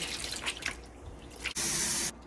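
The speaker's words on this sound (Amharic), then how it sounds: "ውሃችንን እንጨምርና እንደዚህ አድርገን ውሃ አድርጌ አስቀምጠዋለሁ።" Water is poured into fermenting teff and barley injera batter, giving a short, bright splashing rush after a few soft drips and small handling sounds.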